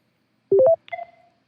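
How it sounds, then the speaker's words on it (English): Touch-tone phone keypad dialing a number before a call, a quick run of three clipped DTMF beeps followed by two longer tones, clear and close with no talk. "It's actually the one I was dialing before, and I'm going to call it again."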